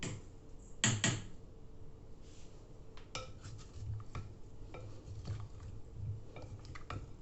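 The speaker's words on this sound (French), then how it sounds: "je vais bien mélanger de nouveau" Sautéed potatoes with garlic and parsley being stirred in a pan, a loud clatter of utensil on metal at first, then a run of soft scrapes, taps and squishy turning sounds, close by.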